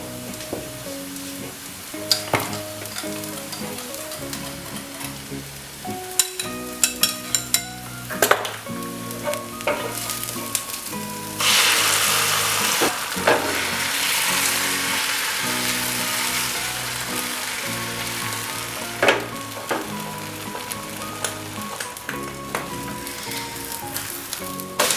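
Beaten egg frying in a pan for an egg fry: a loud, close sizzle with frequent sharp spatula clinks and scrapes, swelling into a stronger hiss midway.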